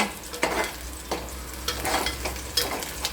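Sliced onion sizzles steadily in a pan of hot oil while being fried for a fenugreek leaf and pigeon pea lentil dish, with a spatula stirring and scraping in repeated bursts; no voices.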